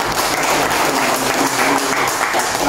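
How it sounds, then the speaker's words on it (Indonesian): Dense, loud applause from an audience at an Indonesian university event, steady continuous clapping throughout with no pauses. "ya kita tepuk tangan kepada"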